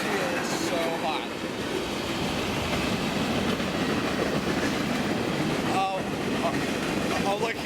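A BNSF manifest freight train rolls steadily past, its continuous rumble and rail noise filling the scene with faint clickety-clack; brief voices chatter over it.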